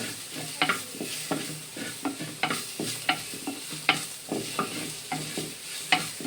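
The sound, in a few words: ginger garlic paste frying with onions in a clay pot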